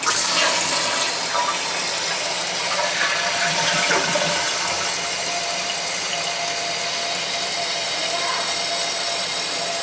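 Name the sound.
toilet being flushed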